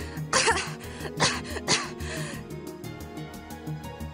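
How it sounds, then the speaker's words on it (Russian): A character in the Zero no Kiseki video game coughs in several harsh, loud bursts close together, followed by a softer stretch of background game music and low voice sounds. "Немного кашляет. Астматик, что ли?"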